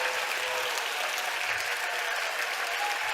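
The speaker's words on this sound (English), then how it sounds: "let's all just have a massive round of applause for all of our finalists" Steady applause from a large audience at a global student finals event, dense continuous clapping filling the room without pause and no talk over it.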